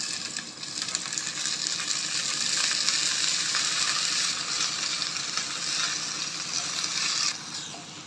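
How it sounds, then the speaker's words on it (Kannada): Amaranth (rajgiri) greens hitting hot oil in a frying pan for rajgiri palya, giving a loud steady sizzle that holds evenly and drops off abruptly near the end. "ಇವಾಗ ಸೊಪ್ಪು ಹಾಕ್ತೀನಿ, ರಾಜಗಿರಿ"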